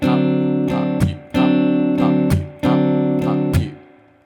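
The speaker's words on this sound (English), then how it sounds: "the full strumming pattern is up, mute, right?" An acoustic guitar strums an up-mute pattern: sustained chords cut off by sharp percussive mutes, about seven strokes in an even rhythm that rings out at the end.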